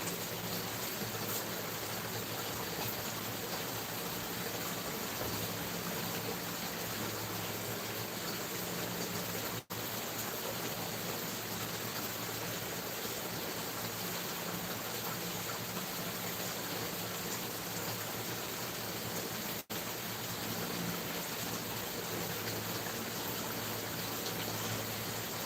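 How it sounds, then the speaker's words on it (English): Water from a shrimp tank is dumped out in a continuous, steady gushing pour that runs on evenly at low volume, with no talking. "I'm gonna go dump out some of this water real quick"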